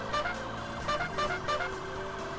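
A police-style siren serving as the car horn in the racing game Need for Speed: Hot Pursuit wails in steady repeating pulses at moderate volume, alone with no talking over it.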